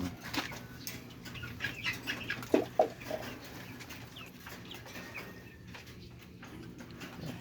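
Chickens cluck faintly in the background, including a fighting rooster recovering from wounds, with soft scratching and a few flapping or tapping sounds amid quiet ambient noise.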